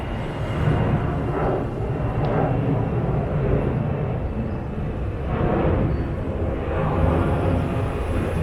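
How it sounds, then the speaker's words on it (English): An airplane passing overhead near an airport gives a broad, steady roar that swells and fades over several seconds, loud and continuous with no voices over it. "Let's wait for that airplane to pass by."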